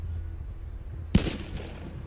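A single sharp gunshot bursts out in the video game DayZ, loud and close, after a quiet stretch with low background hum, then fades with a brief ringing tail.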